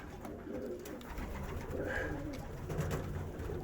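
Homing pigeons in a loft coo softly, low throaty calls rising now and then over a close, rustling background.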